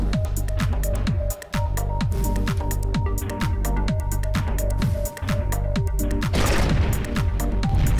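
Rapid machine gun fire in the space combat game Ionball 2: Ionstorm, a steady stream of sharp repeated shots over dense explosions and game noise, loud and continuous with a brief burst of blast near the end.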